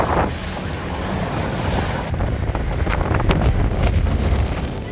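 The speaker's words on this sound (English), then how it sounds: "Dozens of dolphins darted through crashing waves, chaotic, stunning, and utterly unforgettable off the California coast." Waves crashing off the California coast, a rushing surge of surf mixed with heavy wind buffeting the microphone, loud and continuous for a few seconds with no voices.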